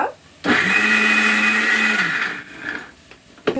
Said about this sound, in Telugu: కొబ్బరికాయ ముక్కలు ఎల్లుల్లిపాయ జీలకర్ర అండి వేసుకుని దీన్ని మిక్సీ పట్టుకోవాలి